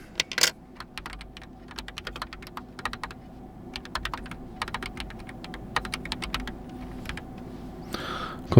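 Keys clack on a DarkBeacon Flux 87 computer keyboard as a name is typed, a steady run of crisp, close taps with brief pauses over a faint background hum.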